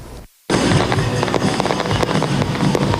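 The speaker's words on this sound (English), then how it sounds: "It's this loud banging and popping of fireworks that causes pets to take off." Holiday fireworks erupt after a brief silence into a loud, sustained barrage of banging and crackling pops, close and relentless with no pause.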